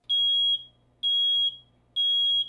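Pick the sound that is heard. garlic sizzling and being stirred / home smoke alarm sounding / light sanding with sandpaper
home smoke alarm sounding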